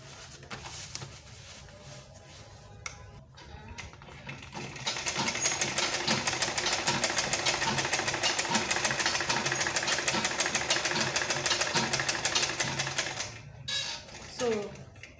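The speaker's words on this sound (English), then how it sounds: "So I will sew on the top stitch line again" A sewing machine runs a top stitch on a quilted lunch bag with foam inside, a steady rapid mechanical whir lasting several seconds after quieter handling sounds, then stopping.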